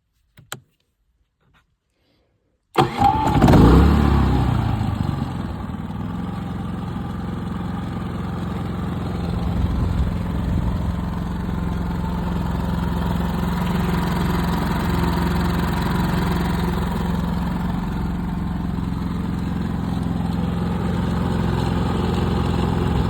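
A brand-new 1500-watt portable generator pulls to life after a short quiet stretch, catching with a sharp burst, then settling into a steady, close, moderately loud engine drone with a faint rattle that holds to the end.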